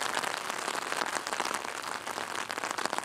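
Steady rain falls on a wet day in Leiden, a dense, even hiss and patter of drops that fills the whole stretch at moderate loudness with no voices.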